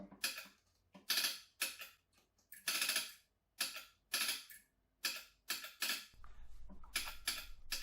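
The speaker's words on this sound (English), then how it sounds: "First, I sent a telegram. Yeah, it was still wired up and did all the clicking sounds." An old wired telegram machine at a museum clicks in sharp, bursty clusters of mechanical taps, fairly close and alone, with a steadier rattling run near the end.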